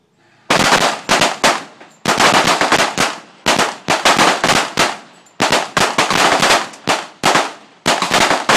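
Rapid bursts of gunfire on a firing range, loud close shots fired in quick strings of several rounds, separated by brief pauses.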